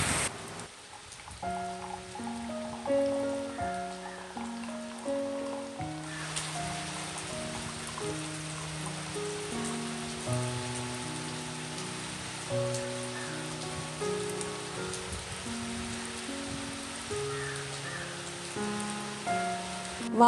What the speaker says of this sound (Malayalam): പക്ഷേ ജനലിന് പുറത്ത് നല്ല മഴ